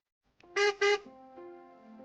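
A car horn gives two short honks in quick succession, followed by a fainter lingering tone, triggered by the key fob's car-finder button on a Leapmotor T03 electric car.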